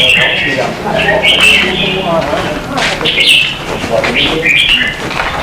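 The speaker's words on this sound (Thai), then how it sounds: "ถึงนกตัวนี้ก็เป็นอีกตัวหนึ่งครับ นกตัวนี้ชื่อสกอร์เปียน" A caged red-whiskered bulbul sings in bright, repeated chirping phrases, fairly close, while someone talks over the birdsong outdoors.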